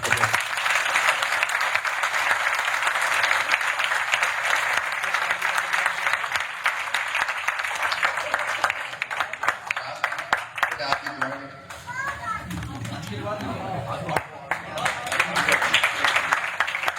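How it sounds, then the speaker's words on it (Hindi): Audience applause after a ghazal performance: sustained, dense clapping from a crowd, loud and steady throughout, with a brief dip partway before swelling again, and faint voices mixed in. "भरपूर तालियां।"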